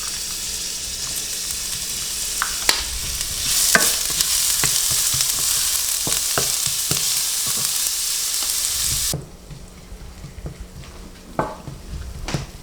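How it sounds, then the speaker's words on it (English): About two teaspoons of chopped garlic frying in a pan for fresh-skinned popiah spring rolls, with a loud steady sizzle and utensil stirring scrapes and clinks. The sizzle drops away abruptly near the end, leaving a few quieter knocks. "cook the garlic a little bit. About 2 teaspoons of chopped garlic."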